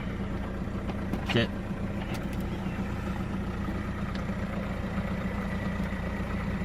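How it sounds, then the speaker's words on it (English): An Audi A4 Sport Avant TDI diesel fitted with an induction cone idles with a continuous, even, low rumble, close and steady throughout, with a short clank partway through. "The reason she sounds a bit like a marine diesel at the moment is the induction"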